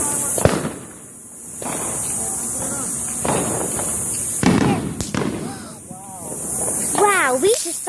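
Fireworks going off outdoors: several sharp cracks and pops at irregular intervals over a steady high hiss, with whistling rising tones late on and excited voices talking between the bursts.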